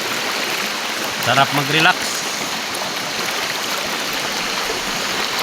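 Fresh, cold stream water in rural Lupon, Davao Oriental flows with a steady, broad rushing close by, filling the whole clip while a voice speaks briefly over it.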